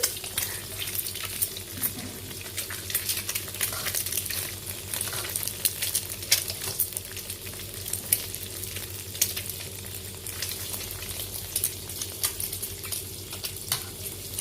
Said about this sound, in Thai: ต้องมาทอดไข่กินครับ